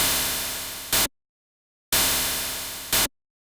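A harsh, hissy FM synth tone in Ableton, with oscillator fine parameters pushed until it sounds almost like white noise, played twice in short bursts with silence between.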